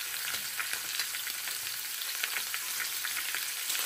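Chicken thighs brown skin-side down in a hot pan, producing a loud, dense, continuous crackling sizzle with rapid spitting pops throughout, close and steady with no talking.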